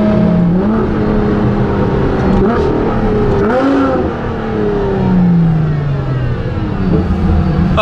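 Ferrari LaFerrari hypercar with a straight pipe exhaust, its engine loud and close, revving continuously with rising and falling pitch sweeps and no pause.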